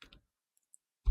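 A computer mouse clicking while a palm tree is modelled in Blender, two quick close clicks at the start, then near silence with a couple of faint ticks.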